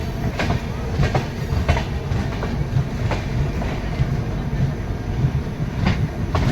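An express train from New Delhi to Malda Town moves through Buxar station, its wagons rumbling loudly up close with a rhythmic clickety-clack of wheels over rail joints and sharp metallic knocks.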